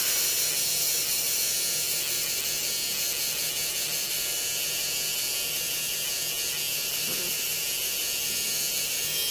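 An eyebrow embroidery needle machine runs in a steady, continuous high buzz close by, unchanging throughout with no breaks and no speech.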